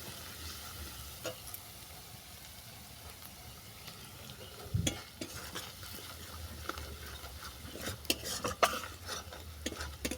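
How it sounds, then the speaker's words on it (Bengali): Spice paste with turmeric powder being stir-fried in a pan for a chalta and prawn dish: a steady soft sizzle with repeated scraping stirs and occasional sharp clinks of a utensil against the pan, fairly quiet and close. "দিলাম হলুদ গুঁড়ো মশলাটা ভালো করে কষিয়ে নেবো"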